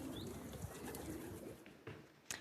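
Homing pigeons cooing in France, soft, low coos from nearby birds over a quiet background, with a couple of brief sharper chirps near the end.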